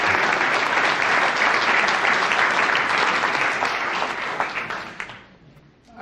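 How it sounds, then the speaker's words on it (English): A crowd claps steadily in loud, dense applause that carries on for several seconds before tapering off near the end. "Give him a round of applause."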